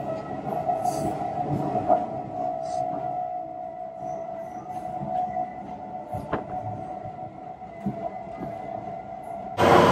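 A train bound for Digha station rumbles along steadily with a constant hum, occasional clanks and faint wheel squeal, running alone without talk and ending in a louder burst.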